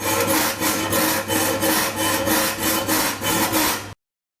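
A hand saw rasps back and forth through a steel knife blank in a steady rhythm, about eight strokes, close and loud, with a metallic scraping edge, ending abruptly.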